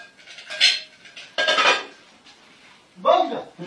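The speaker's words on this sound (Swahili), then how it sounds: "Sasa nioshe vyombo." Dishes, pots and cutlery being washed by hand in a home, heard as three separate bursts of close clattering and clinking metal and crockery with quiet pauses between them.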